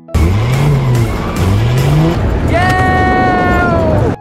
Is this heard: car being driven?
yes